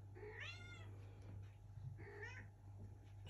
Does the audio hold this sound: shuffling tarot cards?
no